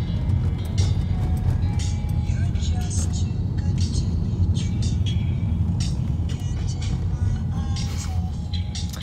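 A car drives along on the way to a mall, its steady engine and road rumble filling the cabin continuously with faint clicks and rattles on top.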